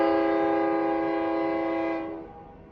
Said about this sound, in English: what can you do when you live right next to a railroad track?